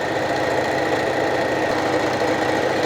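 A sewing machine stitches a pleated skirt at a fast, continuous pace, giving a dense, steady mechanical whir and rapid needle chatter at an even level throughout, with no talking.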